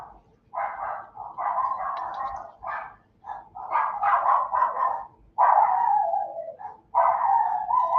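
Several small pet dogs bark and yip excitedly in overlapping bursts at close range, with some whimpering between volleys, over a low steady background hum.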